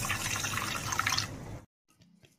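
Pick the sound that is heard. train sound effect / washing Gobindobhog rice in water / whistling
washing Gobindobhog rice in water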